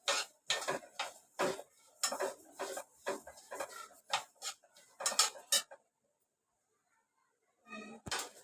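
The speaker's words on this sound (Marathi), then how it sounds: "ती भाजायला सुरुवात झाली आहे हे बघा आवाज येतोय ना" Sesame seeds roasting dry in a deep pan for sesame laddoos, giving a run of close, bright crackling and ticking bursts that go silent near the end, then a final short clatter.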